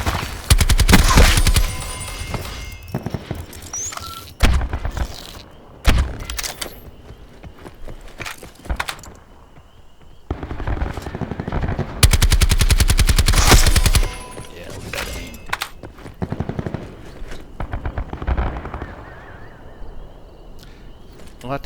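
Bursts of gunfire from a slow-firing gun in Black Ops 4 on the Hacienda map at twilight, with several loud, close volleys spread through the clip and quieter game noise between them.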